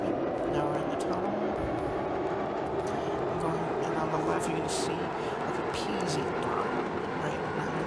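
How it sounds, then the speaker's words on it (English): A metro train in Metro Simulator running through a tunnel, a continuous low rumbling drone with faint rail clicks, steady at moderate level under someone talking. "The train's moving, no problems."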